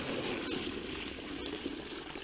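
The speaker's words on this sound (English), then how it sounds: "we just fill it with some water." Water pours steadily into a small bucket buried in garden soil as a wildlife pond, a continuous close splashing and gurgling fill with no pauses.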